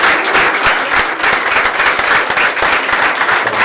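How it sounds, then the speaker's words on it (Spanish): Loud, sustained applause from a large church congregation, dense clapping that continues throughout without a break. "Aplausos al Señor, al Rey de Reyes"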